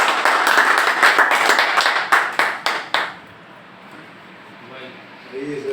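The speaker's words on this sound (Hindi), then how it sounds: "एक बार जोरदार तालियां चाहूंगा मैं इसके लिए।" Audience members clap loudly for a company at a Hindi-language business gathering, a dense burst of applause lasting about three seconds before fading into quiet room tone and a murmuring voice.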